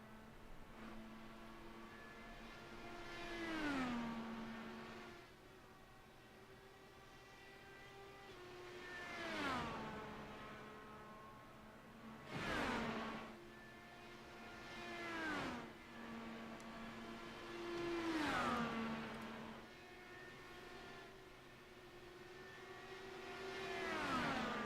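An IndyCar at Texas Motor Speedway in a racing video game howls through repeated high-pitched revs, each pass swelling and falling in pitch as the whining engine note sweeps up and drops off, fairly faint, with no voices.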